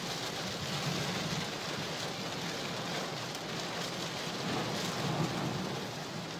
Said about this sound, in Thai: สายฝนกระหน่ำอย่างรุนแรง